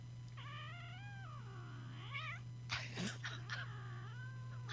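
A house cat meows several times indoors, drawn-out and wavering cries that end in a few short, sharper calls, quiet and close over a steady electrical hum.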